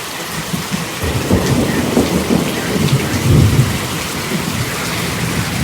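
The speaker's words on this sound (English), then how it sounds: "this storm is moving at 45 miles an hour" A fast-moving thunderstorm during a tornado warning brings a heavy downpour of rain with low rumbling thunder rolling underneath, steady and close, with no voices.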